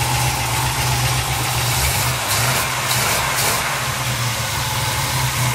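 A reassembled 350SS motorcycle engine runs steadily at idle, a continuous rough rumble with a constant drone throughout.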